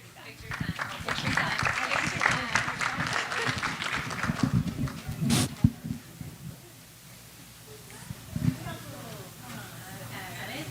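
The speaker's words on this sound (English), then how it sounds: "let's clap for them" An audience at a school board meeting claps for students who wrote poems, a dense patter of hands for about six seconds, then fading to scattered claps with voices talking over it.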